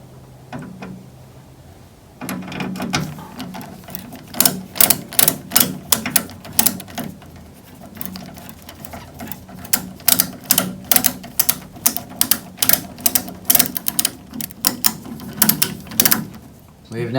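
Screws being driven into a motherboard inside a gaming PC case, with rapid ratcheting clicks from a screwdriver in repeated bursts, close and fairly loud, separated by short pauses.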